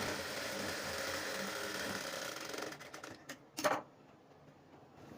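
A sewing machine stitches a two-piece shaped belt for a work blouse, running in a steady close mechanical whir that stops, followed by a few brief clicks and a short burst of stitching near the end.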